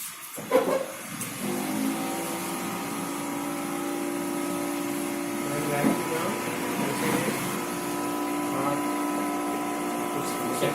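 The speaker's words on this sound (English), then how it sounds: "120 का vacuum on करना।" A vacuum pump on a mobile phone repair machine, set to 120, runs with a steady, even droning hum for the whole clip after a brief clatter as it switches on.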